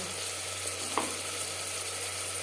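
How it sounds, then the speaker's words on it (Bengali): Marinated mutton frying in a pan with onion and tomato for an aloo mutton curry, giving a steady, even sizzle throughout with one brief stir or clink in the middle and no talking. "হালকা করে ভেজে নেওয়ার পর দিয়ে দেবো ম্যারিনেট করে রাখা মাংস"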